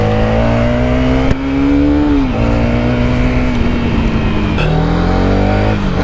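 A Hero Karizma XMR 210 motorcycle engine drones steadily while riding, loud and close, its pitch rising gradually through the gears with a brief dip at a shift.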